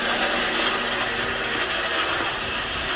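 A power tool cuts through a dual-layer 4-inch steel exhaust downpipe, a loud, harsh, continuous grinding rasp that holds steady for a few seconds, with no speech.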